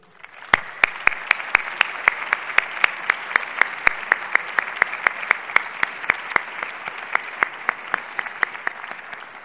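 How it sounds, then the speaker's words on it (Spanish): Applause from a crowd of aficionados and colleagues at a bullfighting awards ceremony, offered in memory of someone who has died; steady, dense clapping with sharp individual claps standing out, continuing evenly throughout. "le dirigimos nuestro recuerdo en forma de aplauso al cielo"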